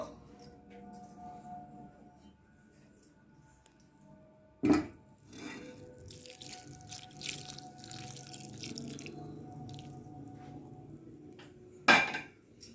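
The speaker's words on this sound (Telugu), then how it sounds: "నూనె పోసుకొని ఒకసారి దీన్ని కలియబెట్టుకోవాలండి" A spoon stirs amla pickle in a steel vessel after oil is poured in, with soft scraping and light dripping punctuated by two sharp metallic clanks, close and alone.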